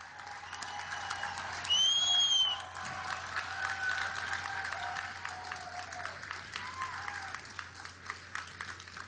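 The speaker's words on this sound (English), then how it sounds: "They deserve our applause." A crowd at Ground Zero in New York claps and applauds, swelling briefly then settling into steady, moderately loud applause that carries on throughout.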